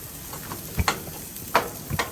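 Ribeye steaks cooking over high heat give off a steady background sizzle, broken by a few sharp scrapes and clacks of cooking tools at irregular moments, with nobody speaking.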